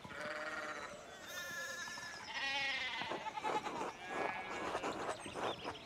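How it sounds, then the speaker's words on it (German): Sheep bleat repeatedly in the video game Pentiment, set in 1518 Tassing, where a broken fence lets the flock slip out; several wavering, overlapping calls come close and loud, one after another, with no talk. "Der Zaun ist kaputt, unsere Schafe entwischen."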